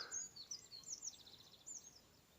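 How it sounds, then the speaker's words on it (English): Faint, high-pitched wren song trills in the background, short rapid phrases repeating over quiet outdoor ambience. "A wren in the background too there"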